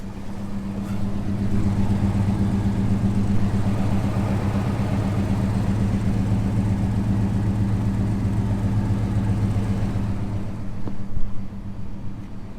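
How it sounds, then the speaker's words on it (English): A 1989 Ford Fox body coupe engine idles steadily with a low, even drone and no voices, then a brief bump in level near the end. "Starts and idles okay."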